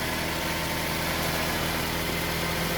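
A repaired engine runs at a steady idle after its starter's worn carbon brush was replaced, a continuous even rumble with mild vibration, close and alone with no talking.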